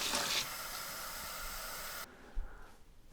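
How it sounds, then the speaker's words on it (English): Water poured into an Instant Pot to top up onion soup, a steady broadband hissing splash lasting about two seconds, close and alone, then stopping into quiet room tone. "So I'm gonna top this up actually with water."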